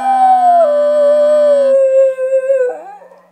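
A schnauzer dog howls along with a person singing, a long wavering tonal howl that slides downward and breaks into short whimpering yips at the end, loud and close.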